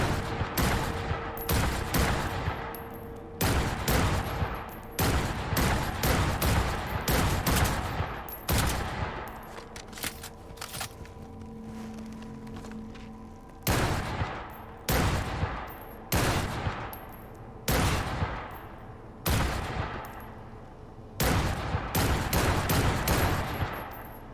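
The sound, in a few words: assault rifle gunfire in Cyberpunk 2077 video game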